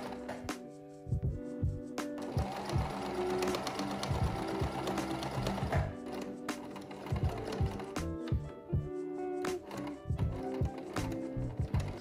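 A sewing machine stitches fabric onto an Adidas sweater in a curved arc, running in steady rapid bursts with short pauses between runs, close and clear with no voices.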